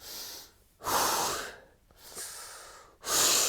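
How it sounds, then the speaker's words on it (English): Deep breathing close to the mic, three long airy breaths with pauses between them, each rising and falling smoothly, the last one strongest. "I will take deeper breaths."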